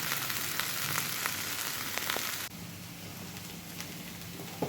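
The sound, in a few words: lentils drying and sizzling in a pan on the fire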